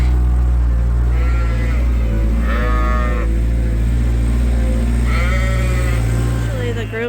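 Sheep bleat repeatedly in a barn pen strewn with straw, several distinct calls rising over a steady low rumble, with a voice talking quietly underneath.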